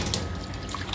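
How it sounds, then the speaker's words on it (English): Tap water runs steadily over raw oxtail meat being washed in a kitchen sink, a close, loud continuous splashing rush with no voices. "wash your meat, make sure it's all clean, then we strain it off, drain it off"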